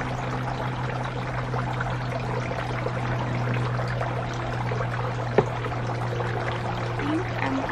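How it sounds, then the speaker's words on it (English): Water pours steadily for string of dolphins plant cuttings, a soft continuous splashing trickle under a low hum, with one small knock near the end. "String of dolphins need water."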